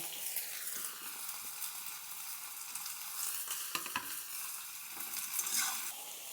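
Potatoes and eggplant sizzle steadily in a hot pan with oil, a continuous frying hiss broken by a few louder stirring scrapes near the middle and end, with no voices.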